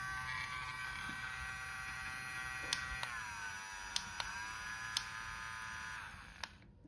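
A coffee blender running with a steady, high motor buzz and whine throughout, the pitch dropping slightly partway through, with a few sharp clicks on top before the motor winds down near the end.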